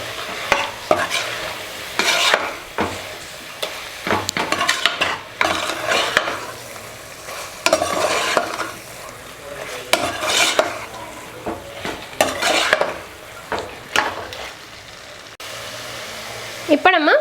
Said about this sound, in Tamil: மசாலா பேஸ்ட்டை சேர்த்துற வேண்டியதான். முதல்ல தண்ணி சேர்க்காமல் ஃபஸ்ட்டு சேர்த்துட்டு மிக்ஸ் பண்ணி விடுங்க